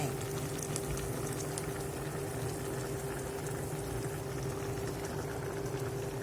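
Salmon and potato soup boiling in a pot, a steady bubbling simmer with a constant low hum running underneath, continuous and fairly quiet, no voices.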